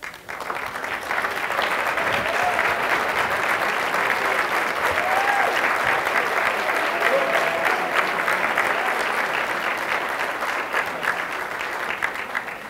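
Audience applauding military service members who stand in a large room, a sustained broad wave of clapping that swells quickly, holds steady for several seconds and then tapers slightly.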